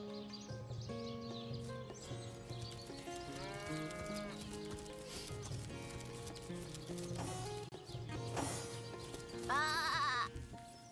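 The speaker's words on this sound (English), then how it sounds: "behind his house there's a sheep" Several sheep bleat amid other farm animal calls over layered music in the video game Divinity: Original Sin Enhanced Edition, the bleats rising and wavering in short repeated bursts.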